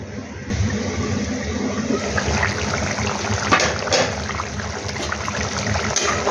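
Koi fish curry bubbling in a covered pot, a steady close hiss and gentle simmering burble that runs unbroken throughout.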